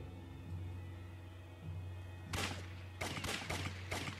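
Gunshots fired in a Leap Motion hand-tracked shooting video game: a steady electronic hum, then from midway a burst of several sharp, loud shots in quick irregular succession.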